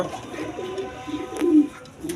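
Purebred pigeons, a male and a female pair, give a few soft, close coos in short phrases, the loudest near the middle of the brief moment.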